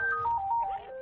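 A phone rings in the Battlefield Play4free video game as a short electronic tonal ringtone with a few stepped pitches, faint and alone.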